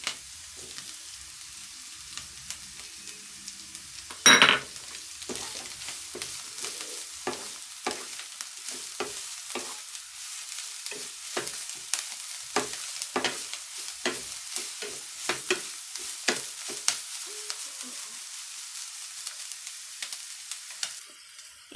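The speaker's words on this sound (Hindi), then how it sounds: "सभी सब्जियों को भूनते हुए 1 मिनट हो चुका है" Finely chopped capsicum and other vegetables are sautéed in a pan, with a steady light sizzle and frequent sharp spatula scrapes and taps over about twenty seconds, plus one louder clank early on; no speech.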